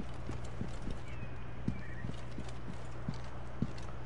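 A horse in Assassin's Creed Origins clip-clops at a walking pace near a pyramid in Egypt, giving regular close hoof beats over a low steady hum, with a brief whinny-like tone partway through.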